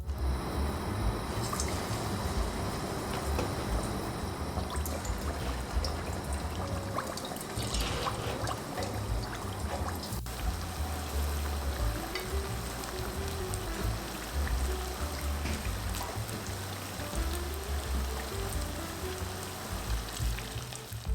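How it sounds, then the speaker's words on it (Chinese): Glutinous yellow millet cakes deep-fry in oil over medium-low heat, giving a steady dense sizzle and crackle that continues evenly and close up, with no talking. "油的话也不需要加得太热，可以先扔进去一小块面团试一下。"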